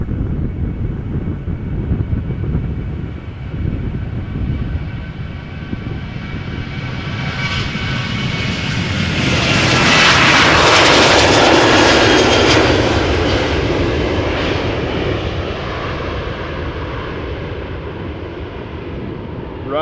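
A Ryanair airplane at Amsterdam Schiphol Airport roars past with a heavy engine rumble that swells to a loud peak midway and then slowly fades, a continuous jet roar for about twenty seconds.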